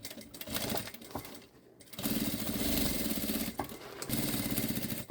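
A sewing machine stitches synthetic panels for a drawstring backpack in close, loud motor bursts, with a brief pause after the first short run and then longer continuous stitching.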